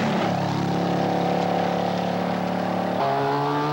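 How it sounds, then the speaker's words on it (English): A sick-sounding 1980s Audi Quattro rally car engine at a 1984 Northwest rally, a steady rough droning note that drops in pitch near the end, loud and continuous with no talk. "with the Quattro's engine sounding far from healthy"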